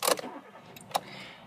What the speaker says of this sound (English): If I now just start up this vehicle,